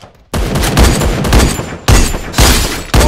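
Gunfire from a battle-royale shooter video game, in loud bursts of rapid shots separated by brief pauses, close and punchy, with no talking over it.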